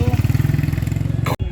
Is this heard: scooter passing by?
yes